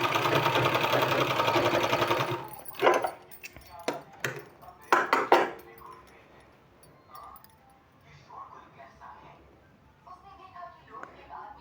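A sewing machine stitches a two-colour fabric strip, one inch wide and 2.5 inches long, for a sleeve design: a steady close run of stitching, then several short stop-start bursts, with someone talking afterwards.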